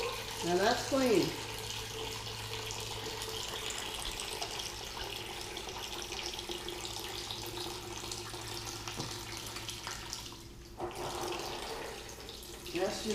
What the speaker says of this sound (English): That's just water coming out.